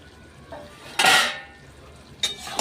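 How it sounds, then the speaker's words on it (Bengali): A lid lifted off a pot of fish head curry with pumpkin and potato, a sharp metallic clank followed by a brief rush of steam and a second lighter clatter near the end, close and alone. "পরে দেখ এই দেখুন ঢাকাটা খুলে দিচ্ছি আমি"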